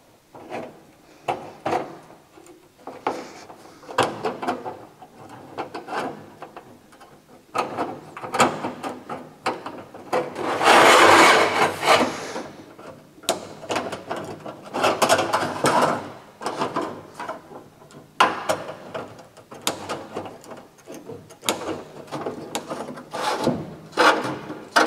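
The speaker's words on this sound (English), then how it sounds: "I'm going to cut about 2 to 3 millimetres outside of my line." Sheet metal for a car's front apron being cut by hand a few millimetres outside a marked line, a run of snipping, clanking strokes with a louder burst of cutting near the middle, close and without talk.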